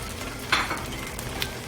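Eggs sizzle in a hot pan for pad see ew, giving a steady frying hiss with a brief scrape or clink of stirring near the middle.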